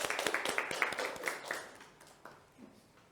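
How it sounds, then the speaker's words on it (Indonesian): Clapping from a classroom audience for a student presenting group, a quick patter of many hands for about two seconds that then fades into quieter room noise. "Tepuk tangan dulu buat kelompoknya Zaki."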